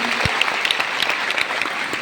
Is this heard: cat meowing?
no